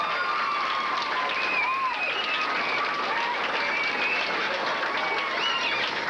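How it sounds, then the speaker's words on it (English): Sustained, even applause from a crowd at an awards banquet fills the space for about six seconds, steady and fairly loud, with scattered cheers and whistles riding on top. "Could we give them all a big round of applause, please?"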